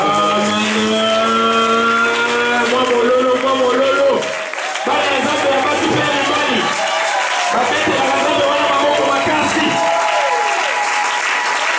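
A church congregation cheers and applauds loudly and continuously, a dense roar of clapping and voices with a brief dip midway before swelling again.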